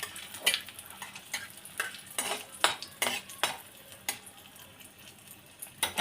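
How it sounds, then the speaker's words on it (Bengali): Dry red chillies and black cumin tempering in hot oil in a pan, with a soft steady sizzle under repeated sharp scrapes and clinks of a spoon stirring against the metal pan, close and fairly quiet. "শুকনো লঙ্কা ফোড়ন দিলাম, এটাকে একটু নাড়াচাড়া করে নিতে হবে।"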